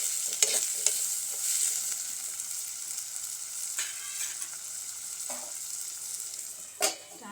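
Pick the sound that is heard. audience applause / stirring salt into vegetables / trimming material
stirring salt into vegetables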